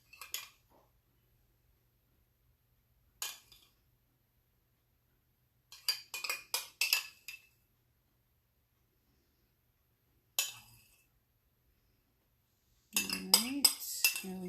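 Spoon clinks and scrapes as yellow popsicle mixture is scooped into plastic moulds, a few short bursts of clatter separated by quiet pauses, with a denser run of clinking near the end.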